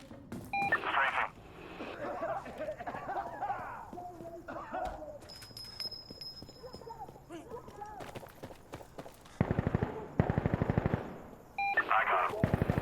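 Air-support strafing gun run in the shooter game Insurgency: Sandstorm: two loud, rapid bursts of automatic cannon fire land close together near the end, after a stretch of voices and scattered battlefield noise.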